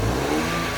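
A car engine, started using a second vehicle linked to it, revs loudly at close range in a short continuous burst with no talk over it.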